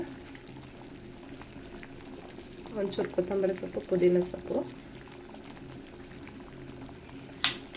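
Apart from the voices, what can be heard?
pot of rice mixture boiling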